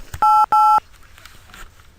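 Two loud, close telephone keypad tones sound in quick succession, each a steady dual-pitch beep about a quarter second long, followed by faint background noise.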